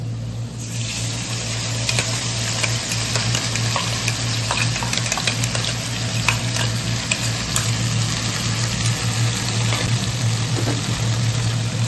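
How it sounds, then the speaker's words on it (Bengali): A vegetarian Bengali curry with already-fried potatoes sizzles steadily in a pan for the whole stretch, with scattered scraping taps of stirring and a constant low hum beneath; no one speaks. "তো এই দেখো তরকারিটা কষানো হচ্ছে।"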